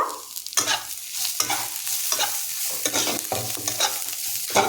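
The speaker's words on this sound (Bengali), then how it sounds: "এবার সব মশলাগুলো দিয়ে এটাকে ভালো করে নাড়াচাড়া করে নেব" A spatula scrapes and stirs garam masala and coriander powder through a pan of bread pakora filling in steady repeated strokes, with a soft sizzle underneath and no voices.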